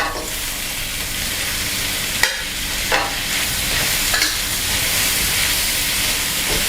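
Loud continuous sizzling from stir-frying pork and glass noodles in a wok, with a few sharp clanks of a utensil against the pan.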